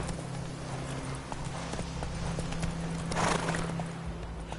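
Horse hooves from The Witcher 3 clip-clop in a steady trotting rhythm, close and continuous, with a brief swell of noise near the end.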